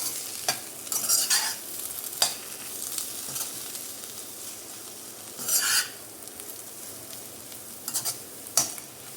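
Aloo masala fry being stirred in a frying pan: soft sizzling underneath, broken by several scraping strokes of a spoon and occasional sharp clinks against the pan.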